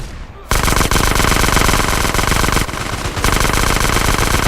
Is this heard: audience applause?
no